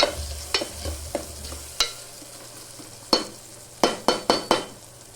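Goat leg curry being fried and stirred in a pan: a steady low sizzle runs underneath while a spoon scrapes and knocks against the pan in irregular sharp clicks, with a quick cluster of knocks near the end.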